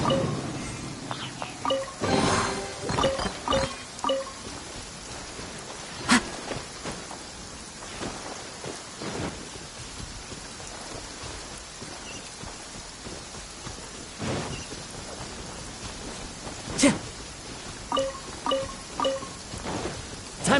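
Downpour in the video game Genshin Impact, a constant hiss of rain with occasional thumps and footstep-like knocks, plus short bursts of chiming game tones.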